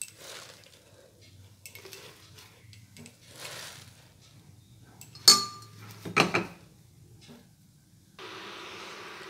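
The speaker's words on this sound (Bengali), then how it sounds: "এবার আমি শাকগুলো প্রেসার কুকারের মধ্যে দিয়ে দিচ্ছি।" Leafy greens going into a pressure cooker in a home kitchen: quiet handling and rustling, then two sharp metallic clanks from the cooker close by, followed by a steady hiss-like background near the end. No one speaks.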